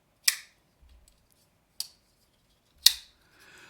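A Griffin Co. X-Series folding knife opens and closes, giving three crisp, close metallic clicks spaced about a second apart in an otherwise quiet room.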